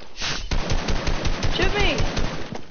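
Video-game automatic gunfire rattles in rapid continuous bursts, loud and close, with a brief voice sound mixed in.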